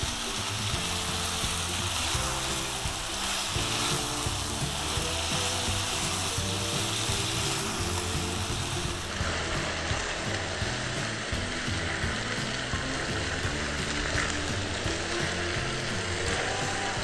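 Kadai paneer is stirred in a hot pan with garam masala and chopped coriander, giving a steady close sizzle and frying crackle with scraping stir sounds that last throughout and no voices.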